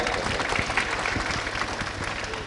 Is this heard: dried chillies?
no